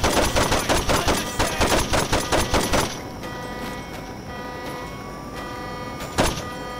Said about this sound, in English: Of course I'm not gonna be able to hit him with the shotgun